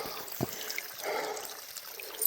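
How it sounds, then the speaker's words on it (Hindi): Water trickles and flows softly along a mountain trek trail to a Shiva shrine at Churdhar near Solan, a steady faint stream with no talking over it. "ये पानी चल रहा है ना।"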